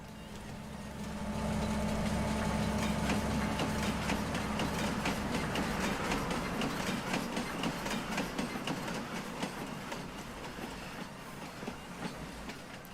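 Slow-moving train in the Farming Simulator 19 video game, a steady rumbling roll with rhythmic clicking of wheels that builds in after a quieter start and continues evenly.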